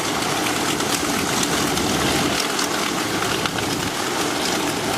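A Yak 52W aircraft engine idles with a steady, dense broadband drone and rumble, held constant and fairly loud throughout, with no speech over it.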